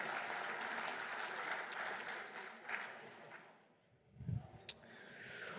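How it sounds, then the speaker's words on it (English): Audience at a 2020 athletics Hall of Fame ceremony applauding the inducted 1997-98 Griffin men's basketball team, a full round of clapping that fades away near the end, followed by a few faint knocks and a voice. "Ladies and gentlemen, one more round of applause for the 2020 Hall of Fame inductees"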